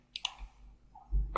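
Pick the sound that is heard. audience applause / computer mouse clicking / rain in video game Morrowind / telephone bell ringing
computer mouse clicking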